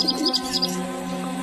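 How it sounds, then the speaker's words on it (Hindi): Many kinds of caged birds in a town square chirp in quick, bright bursts at the start, then fade into a steady tonal background; no voices are heard. "कितने सुंदर पक्षी हैं"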